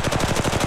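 Gunfire in Apex Legends Mobile: a loud, close, rapid automatic burst of evenly spaced shots with no pause.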